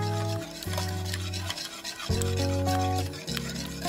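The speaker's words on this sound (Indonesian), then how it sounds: "tambahkan 90 gram gula pasir, lalu aduk sampai gula cukup larut" Two eggs and 90 grams of granulated sugar are stirred by hand in a clean bowl for a steamed banana cake. Continuous close scraping and swishing strokes run over soft background music.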